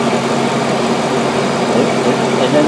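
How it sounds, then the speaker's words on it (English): A hot car engine idling in park produces a steady, close, even hum lasting a few seconds. "Check when hot and the car is idling."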